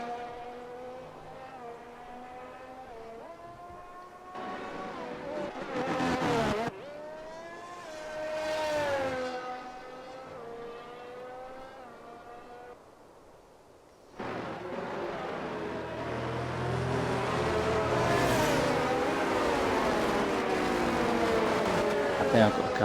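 Race cars in an F1 racing game at a safety car restart at the Hungarian GP: engine whines rise and fall, then surge louder as the cars accelerate, with someone talking over them throughout.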